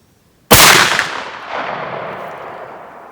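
A single sharp, loud blast from a 32 gauge shotgun firing a TPF Hunter sabot slug at a range, standing alone after silence, with a long reverberant decay trailing off over the next few seconds.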